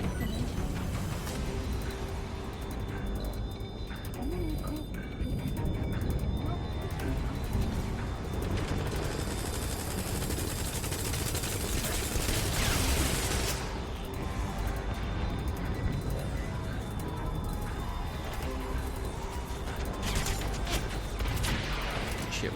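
Gunfire crackles through a dense, continuous Metal Gear Solid V video game battle, with scattered shots and a long hissing burst of noise in the middle.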